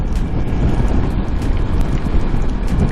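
Steady, roaring wind buffets the microphone throughout while riding a Ducati Multistrada V4S motorcycle at speed, a dense low rumble with no pauses.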